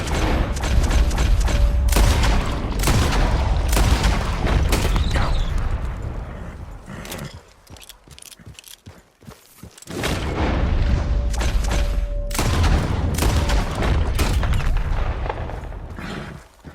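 Gunshots ring out in Red Dead Redemption 2 while hunting rabbits, loud repeated booming blasts in quick succession, a brief quieter lull, then another dense volley of shots.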